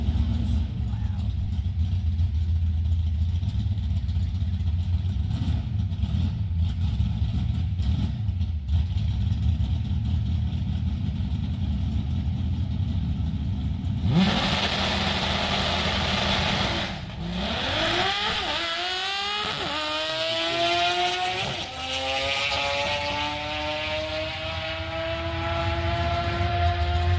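Race car motor running loud and steady, then revving in repeated rising sweeps near the end, with voices talking over it.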